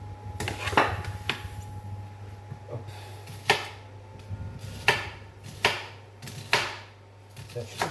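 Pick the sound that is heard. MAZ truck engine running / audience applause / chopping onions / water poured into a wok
chopping onions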